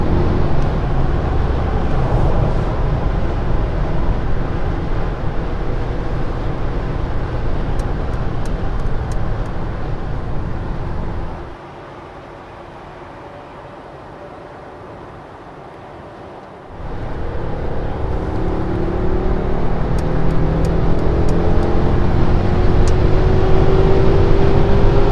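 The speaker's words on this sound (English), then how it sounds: "We are driving 120 kilometers an hour, and let's accelerate" A 2021 Mercedes S580 AMG V8 accelerating from 120 km/h, heard from inside as a steady broadband engine and road roar that dips briefly mid-clip, as if during a shift, then builds again with rising engine tones.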